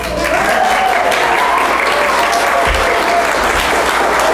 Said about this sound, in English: I was going to ask you to join me in applauding, but you are a step ahead of me.